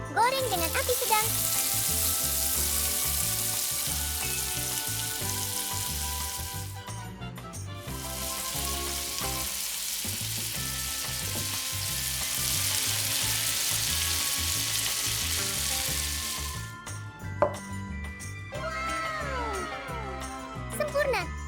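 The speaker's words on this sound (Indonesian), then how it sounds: "Goreng dengan api sedang." Snack-coated food, crusted with Cheetos and Takis for a crispy sandwich layer, fries in oil over medium heat with a steady, loud sizzle throughout, broken by brief gaps and light utensil clinks near the end.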